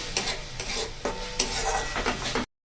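Potatoes fry and sauté in hot oil for dhokar dalna, a close, continuous sizzle punctuated by several scraping stirs of a spatula against the pan, then the sound stops abruptly.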